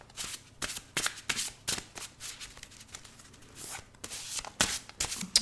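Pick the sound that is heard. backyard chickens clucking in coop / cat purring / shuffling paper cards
shuffling paper cards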